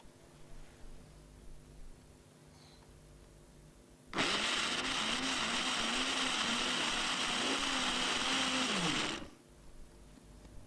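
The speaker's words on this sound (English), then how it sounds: "A liquidizer breaks down the cell walls even further." Liquidizer whirring at high speed as it blends onion cells in a salt and detergent mixture, a loud steady motor drone that starts abruptly, holds for about five seconds and then cuts off.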